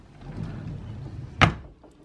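Nursery dresser drawer pulled open with a soft low rumble of sliding, ending in one sharp clunk, then quiet.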